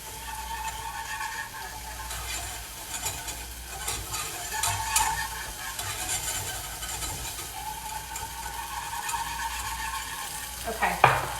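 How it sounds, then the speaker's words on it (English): A cream sauce for mac and cheese is whisked in a pan, a continuous brisk scraping and swishing with faint sizzle beneath, steady throughout and ending in a sharper clatter near the close. "So if I add it slowly, I can make sure that I whisk out any lumps that might start to combine."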